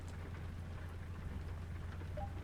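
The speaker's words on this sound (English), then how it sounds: "There's not actually that much rain getting on the windscreen." Rain drumming steadily on a truck windscreen in American Truck Simulator, a continuous close wash of patter with a low hum underneath, no talk.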